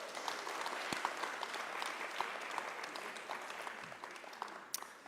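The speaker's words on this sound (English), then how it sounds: "Can we please give her another round of applause?" A lecture audience applauding, a steady patter of many hands clapping at moderate distance, fairly faint and even throughout, with no voices over it.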